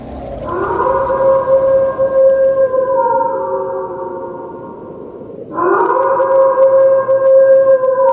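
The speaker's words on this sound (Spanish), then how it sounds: "la manada de lobos grises" A gray wolf pack howls in long, sustained, layered tones, with several voices overlapping. One drawn-out chorus fades, then a second rises loud and close.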